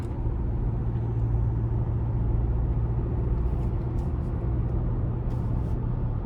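A 2024 Toyota Tacoma SR5 with the iForce turbocharged four-cylinder drives along, heard as a steady low engine and road rumble from inside the cab, with a few faint higher noises near the end.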